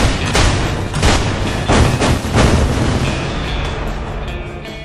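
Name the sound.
explosions destroying buildings in video game Battlefield Bad Company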